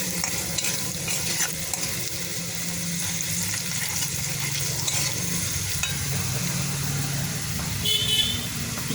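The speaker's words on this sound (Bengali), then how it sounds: "এটা ভালো করে নেড়ে নিই" Pieces of taro and potato, browned and seasoned with turmeric and salt, are stirred as they fry, giving a steady sizzle with scraping strokes, while traffic noise and a faint car horn carry in from outside.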